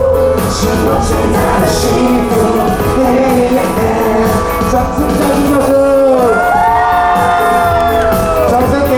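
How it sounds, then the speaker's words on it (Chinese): A concert crowd at a signing event in Kaohsiung's Dream Mall claps and cheers loudly, with whoops and yells layered over steady applause. Sustained tonal voices rise over the crowd near the end. "掌声，掌声，掌声！"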